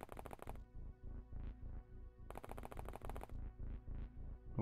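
Gunfire from soldiers in the video game OpenXcom, with repeated bursts of rapid shots separated by short gaps, faint and mechanical, with no voices.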